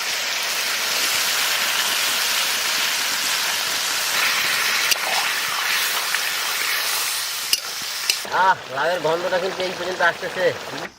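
Water poured into a pan of gourd and hilsa fish head curry being cooked down, a steady broad hiss and sizzle for most of the span, then a voice speaks over the simmering near the end.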